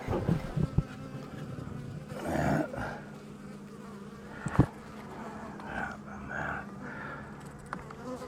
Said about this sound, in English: Uh-oh, I got an angry bee.